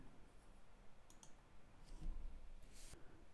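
Sharp, faint computer mouse clicks, a few isolated taps and a quick pair, sound close up against quiet room hiss with no speech.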